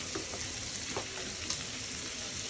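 Spices, turmeric and salt frying in a pan, a soft continuous sizzle with faint stirring scrapes, quiet and close.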